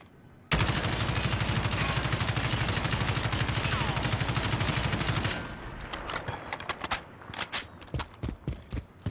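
Sustained automatic gunfire from a weapon in Warzone Modern Warfare, a long rapid burst of about five seconds followed by scattered single shots and clattering, loud and close.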